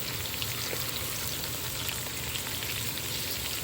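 Tomato, onion and spring onion fry in a pan with broccoli, giving a steady, even sizzle with fine crackles throughout and no break or change in level.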